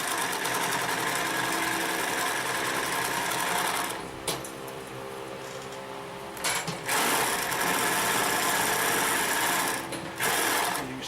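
A Consew 227R-2 industrial sewing machine stitches over thick layered seams, a loud, rapid mechanical chatter running in long bursts with two brief stops between runs.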